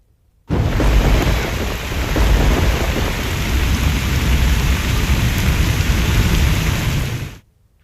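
Heavy rain pours steadily with deep rumbling thunder during a monsoon downpour, loud and dense from start to finish with no voices.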